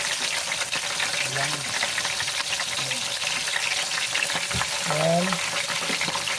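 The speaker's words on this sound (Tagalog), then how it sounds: "magpiprito naman tayo ng ating isda" Fish frying in a pan, a steady loud sizzle running throughout, with a person speaking briefly over it.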